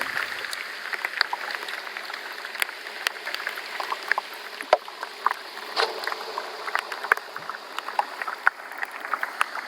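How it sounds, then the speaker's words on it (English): Underwater hydrophone recording among icebergs, full of sharp pops and clicks over a constant fizzing crackle as trapped air escapes the ice, busy and close throughout. "using the hydrophone at this point around the icebergs"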